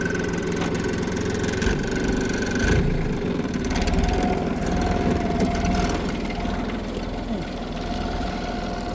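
A tractor driving home with firewood tied into its raised front loader bucket, its engine droning steadily and close with a rough mid-range rumble throughout.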